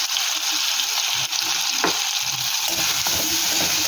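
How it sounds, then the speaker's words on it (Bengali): Cauliflower and potato fry with sugar in a pan, a loud, steady sizzle running throughout, with occasional soft scrapes of stirring close by. "চিনিটাকে ভাজবো"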